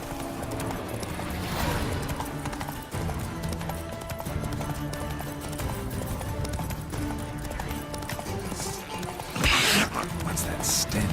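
Hooves clip-clop in a steady rhythm as a horse trots in The Witcher 3: Wild Hunt, heard close under game music and ambience, with a short louder burst near the end.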